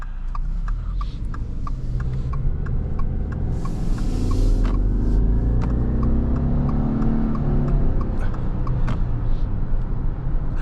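A 2026 Subaru Outback Wilderness turbocharged engine hums and rumbles steadily from inside the cabin and swells as it speeds up, with road noise and faint clicking throughout.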